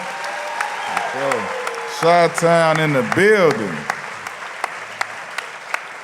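Live show audience in Chicago applauding, with a host speaking loudly and excitedly over steady crowd clapping and cheering.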